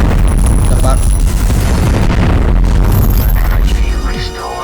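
Heavy booming blasts from explosives in the space shooter video game Thunder Strike, loud and continuous rumbling under layered game effects, with a voice talking throughout.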